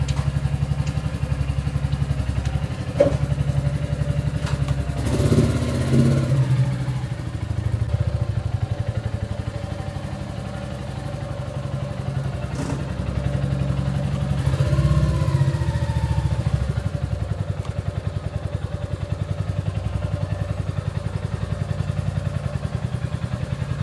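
A motorcycle engine idles steadily nearby, a low continuous rumble with a few clicks and brief clatters on top, no talking over it.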